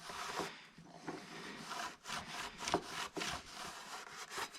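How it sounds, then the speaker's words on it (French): Motorcycle brake disc being scrubbed and degreased, with quick repeated rubbing strokes in a steady back-and-forth rhythm, close and fairly quiet. "On frotte et on dégraisse bien le disque."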